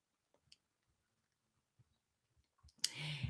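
A few faint, isolated computer mouse clicks in a quiet room, sparse and soft, before a louder burst of sound at the end.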